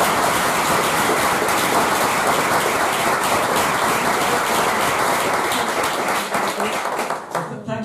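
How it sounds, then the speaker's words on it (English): A lecture audience at Canning House, after a talk on Latin American cinema, gives sustained, dense applause that fills the room for several seconds before tapering off at the end. "Before we do one final round of applause"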